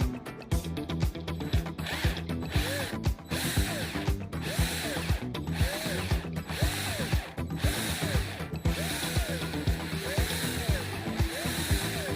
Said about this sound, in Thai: เราจะใช้สว่านเจาะเลยครับ